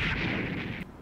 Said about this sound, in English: Everybody's firing now. Missiles all over the place.